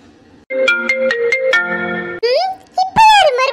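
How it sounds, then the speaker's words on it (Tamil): Mobile phone ringtone for an incoming call, a bright electronic melody of short repeated tones that rings loudly and close, then gives way to a person's voice starting to talk. "இப்ப யாரு மறுபடியும் ஃபோன் பண்றது?"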